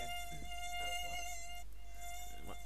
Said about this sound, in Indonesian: Suara nyamuk tak lucu lagi